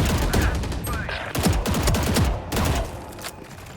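Rapid bursts of gunfire in the tactical shooter Valorant, several loud volleys crackling in quick succession with short pauses between them, close and dominant throughout.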